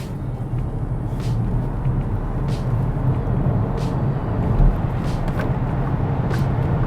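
An XPENG G6 Performance car gathers speed after a toll booth, a steady broadband road and wind roar with brief whooshes of passing vehicles, loud and continuous without speech.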